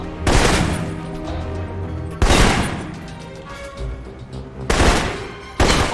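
Assault rifle gunfire in the Alpha Protocol video game: three loud bursts of rapid automatic fire, close and dense, with brief lulls of game ambience between them and a final burst cut short at the end.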